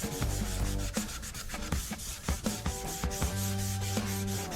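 Hand sanding of a hunting knife blade with 500-grit abrasive paper, made as steady back-and-forth rasping strokes that repeat in a close, even rhythm, loud and continuous with no talking.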